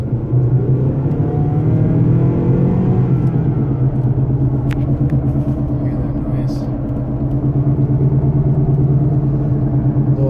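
A 2011 car with a worn wheel bearing hub assembly roars loudly and steadily, a deep rumbling drone under faint wind noise as it accelerates hard on the road.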